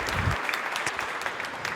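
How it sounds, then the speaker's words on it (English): Members at a Rotary meeting give a round of applause, steady crowded clapping from a room full of people, moderately loud and continuous throughout. "let's give them a big round of applause"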